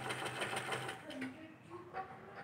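An electric sewing machine stitches pleats into net fabric for a dhoti salwar, giving a steady close-up whirring hum through most of the stretch that eases slightly toward the end.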